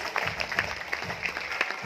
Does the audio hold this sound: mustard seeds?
no